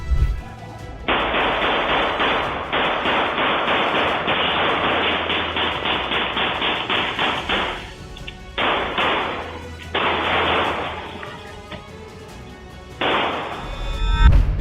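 Rapid bursts of gunfire from an ambush rake a pickup truck, loud and close, with sustained volleys broken by short pauses and a final heavy thump; no voices.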